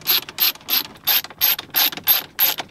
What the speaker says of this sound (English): let's go ahead and put 2 of those screws back in